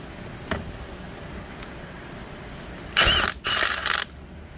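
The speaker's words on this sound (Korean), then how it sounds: "22mm 댐퍼 풀리 풀겠습니다." A ratchet wrench loosening the 22mm damper pulley bolt on a car engine, heard as two or three short, loud bursts of rapid ratcheting clicks close by after a few faint taps.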